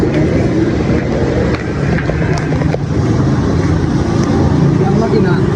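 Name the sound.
Yamaha Aerox 155 scooter engine running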